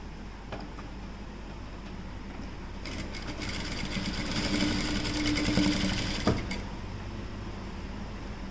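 A sewing machine stitches a blouse sleeve, running at a steady hum that swells into a faster, louder whir for a few seconds in the middle before easing back, with a sharp click near the end.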